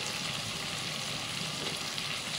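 Beans, carrots and potatoes sizzling in a pan of hot oil for a white kurma, a dense, even hiss that runs steadily throughout, close and without any voice over it.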